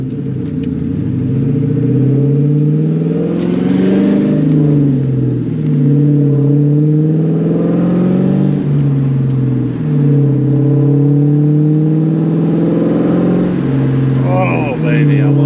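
A New Edge Mustang GT V8 with a catless X pipe exhaust growls loud and close while driving, its note rising and falling through repeated revs and shifts, with a voice talking over it.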